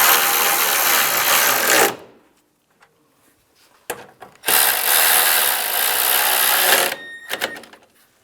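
Ratcheting bursts from a socket wrench snug down the radiator fan assembly bolts on a 1999-2005 Volkswagen Jetta, two long close runs separated by a pause with light clicks and taps.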